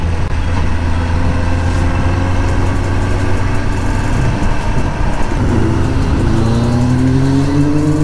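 A Kawasaki ZX10R riding alongside two Kawasaki Z900 motorcycles on a Sunday, with loud, close engine drone and rising revs as the bikes accelerate, continuous throughout.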